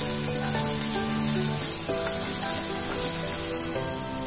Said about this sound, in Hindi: प्याज को आप थोड़ा सा ट्रांसपेरेंट होने तक पका लीजिए